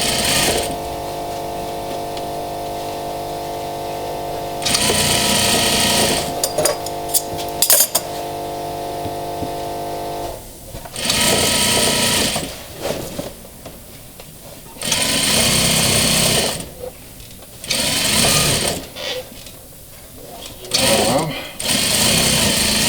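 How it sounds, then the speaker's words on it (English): A sewing machine stitches sofa upholstery fabric in several bursts, a loud rapid mechanical whirr that starts and stops repeatedly with quieter gaps between runs, alongside occasional clinks and a person talking. "what we're going to do is sew this"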